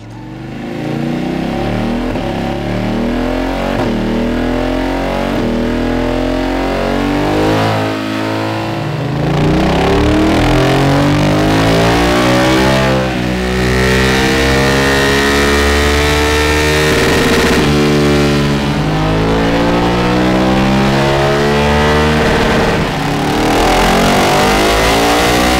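BMW F900R motorcycle engine on a dyno, loud and close, revving repeatedly with rising and falling pitch sweeps over about twenty-five seconds, building to sustained high-rpm runs without talk.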